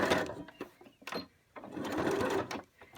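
A sewing machine stitches fabric for a face mask with narrow round elastic, running in two bursts of steady, close-up whirring separated by a short pause and brief clicks.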